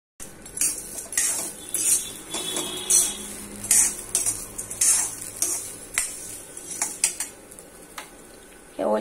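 Wheat grains being dry-roasted and stirred in a pan make irregular bursts of metallic scraping and clinking from a utensil, close and fairly loud, with short pauses between strokes.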